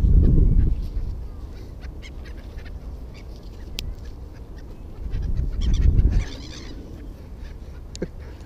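Seagulls and crows calling outdoors as they are fed crackers, with loud bursts of squawking at the start and again midway over a steady background of scattered calls and bird noise.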